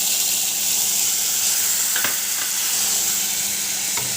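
Water-based spice paste hits hot oil in a pan and hisses into a loud, steady sizzle, broken by a couple of faint clinks from a utensil.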